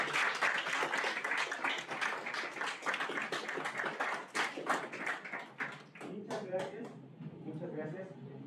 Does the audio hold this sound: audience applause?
yes